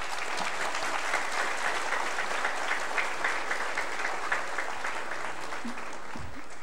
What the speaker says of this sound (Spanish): Un aplauso para todos nosotros.